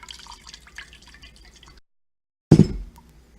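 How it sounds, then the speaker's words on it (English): Water splashes into an empty can in a kitchen, a short burst of pouring that lands loudly after a quiet pause, preceded by faint clattering background noise. "just adding a little water to the can"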